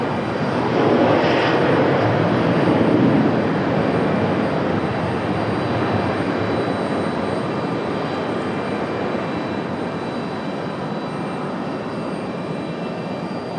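A Frontier Boeing 737-700 jet touches down at Raleigh-Durham airport, a loud sustained engine roar that swells early and then settles into a steady broad rush as it rolls out.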